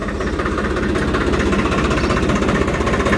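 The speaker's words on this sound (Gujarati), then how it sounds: "તો આપણું ટ્રેક્ટર આવી ગયું છે ફાઇનલ મશીન જોડીને." A Blue Horse 63 tractor with a farm machine attached runs at a steady idle. The engine note is continuous and even, close and fairly loud, with no speech.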